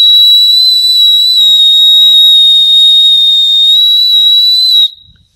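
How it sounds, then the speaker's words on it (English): A shrill emergency whistle built into the side of a 5/8 buckle on a black paracord bracelet, blown in one loud, steady blast for about five seconds before cutting off abruptly. "It's a 5/8 buckle with a whistle on the side."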